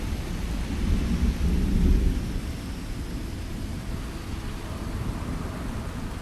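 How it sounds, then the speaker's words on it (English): Thunderstorm in the video game Starfield, a steady wash of heavy rain under low, rolling thunder that swells briefly and then settles into a continuous rumble, with no voices. "Oh, there's a lightning storm going on."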